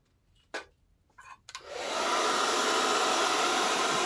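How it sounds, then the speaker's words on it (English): A hair dryer drying craft foam: a few short knocks and handling sounds, then the dryer switches on and settles into a loud steady whooshing roar. "Blow dry again one more time."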